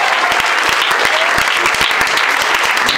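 A congregation at a night prayer vigil applauds to acclaim Jesus, with dense, loud, continuous clapping from many hands throughout.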